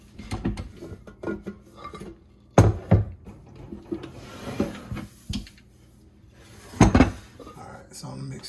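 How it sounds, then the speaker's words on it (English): A utensil scrapes and clanks against a bowl while red velvet cheesecake batter is mixed, the knocks and rubs coming in irregular bursts up close, with a person talking between them. "So I'm gonna get us a thorough mix to make sure everything is mixed in here"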